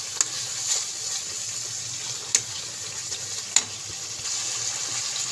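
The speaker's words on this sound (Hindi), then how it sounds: "अब हम इन मसालों के साथ इसकी भुनाई करेंगे" Spice masala for lauki karhai roasting in a pan, a faint steady sizzle with a few sharp clicks of a spoon against the metal.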